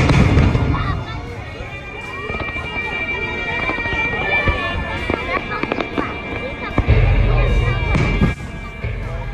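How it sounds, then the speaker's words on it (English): Fireworks burst over the Bay of Cannes during the international fireworks festival, a loud run of booming explosions and crackling pops with deep thuds near the end, over the constant murmur of a crowd. "The Fireworks Festival."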